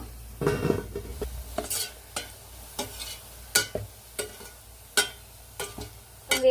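Gulab jamun made from an MTR mix fry in hot oil in a pan under a low background sizzle, broken up by repeated sharp clinks and scrapes of a utensil at an irregular pace.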